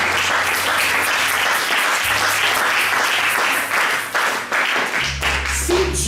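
A church congregation applauding to acclaim the Lord, steady dense clapping from many hands filling the room, loud and sustained with a low musical drone underneath.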